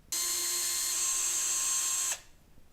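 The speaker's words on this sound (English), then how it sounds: "We use the 1/4-inch drill bit to drill the holes that we marked previously." A power drill fitted with a 1/4-inch bit bores a hole for a pulley light fixture mount, giving a steady high whine for about two seconds that stops abruptly, with no talk.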